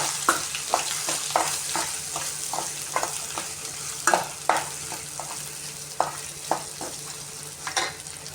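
Continuous sizzling of a spice paste frying in a pan for mint rice, with repeated scraping strokes of a spoon stirring it at a steady pace.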